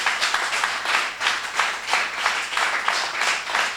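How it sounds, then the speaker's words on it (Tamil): Worship congregation at a Sunday church service clapping their hands together in steady, rhythmic bursts, loud and close, with no talking over it. "என்னைக்காவது இப்படி கைத்தட்டலாம் ஆராதனை சமயத்தில் யாராவது கேட்டிருக்கீங்களா?"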